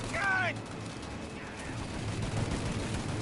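Gunfire in the Mafia remake video game, a steady, rumbling barrage of shots continuing throughout, with a brief voice-like chirp at the start over the sustained battle noise.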